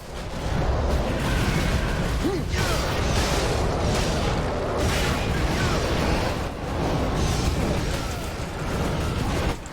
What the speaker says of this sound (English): He dashed right back into the grenade.